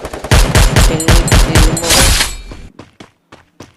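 In a shooter video game, close, loud gunfire comes in a rapid string of evenly spaced shots for over two seconds, followed by a few scattered, quieter single shots.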